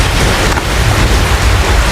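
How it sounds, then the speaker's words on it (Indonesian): Heavy rain pours down in a steady, dense roar with a deep rumbling undertone, loud and continuous, heard from inside a building at night in Surabaya. "Iya, hujan."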